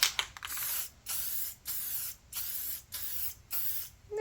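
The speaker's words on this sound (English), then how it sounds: "Test spray." Short bursts of hissing spray paint from an aerosol can, about six test sprays in a steady rhythm separated by brief pauses, close and clear with no talking.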